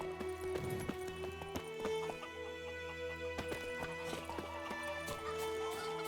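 Horse hooves clip-clop steadily at close range in The Witcher 3: Wild Hunt, running under the game's music and ambient tones.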